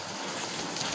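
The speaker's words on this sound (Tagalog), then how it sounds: "Lakas-lakas talaga ng tubig." Strong floodwater rushes in the rain with a dense, steady broadband hiss and roar, loud and close, with no pauses over the short stretch.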